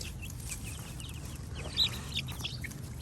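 Feral chickens cluck and chirp in a loose, irregular patter over a steady low background hum, with one sharper, louder call standing out partway through.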